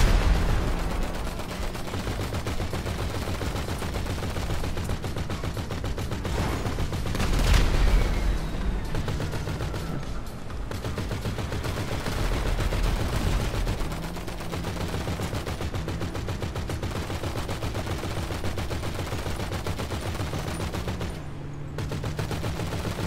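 Sustained gunfire from a vehicle-mounted gun in GTA, a steady stream of rapid automatic shots running continuously over engine and road noise during a chase, with a louder burst near the middle.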